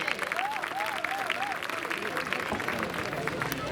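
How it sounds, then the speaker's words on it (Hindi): Audience applause fills a dance competition hall, steady and dense throughout, with a voice briefly rising over the clapping near the start and crowd chatter mixed in. "तालियां रुकनी नहीं चाहिए, बजाइए"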